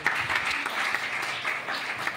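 A church congregation claps for the pastor, a dense, steady round of applause heard from within the crowd that carries through the whole moment without pause.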